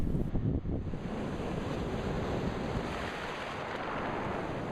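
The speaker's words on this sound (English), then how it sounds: "most of the action can be seen by watching the rocks as the waves roll in" Waves rolling in over a rocky Nova Scotia beach, a steady broadband wash of surf and tumbling water, fairly close and continuous, with some wind noise on the microphone.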